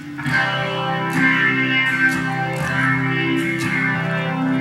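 Electric guitar heavily distorted and effected, sustained chords ringing with a washy, chorused tone, played alone and fairly loud throughout.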